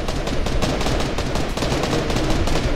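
Rapid bursts of gunfire from the Fortnite video game crackle in a fast, repeated automatic rhythm, loud and close, with no talking over them.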